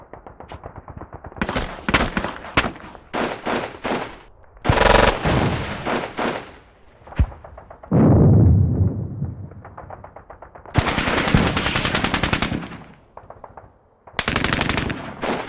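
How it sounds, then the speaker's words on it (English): Gunfire and mortar fire in the Squad Battles Eagles Strike war game: repeated loud bursts of rapid machine-gun fire and single heavy blasts follow one another closely, with short gaps between volleys and no talking. "So Our mortars have started engaging the positions, which is nice."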